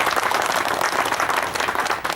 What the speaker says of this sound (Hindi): तो एक जोरदार तालियां शेख साहब के लिए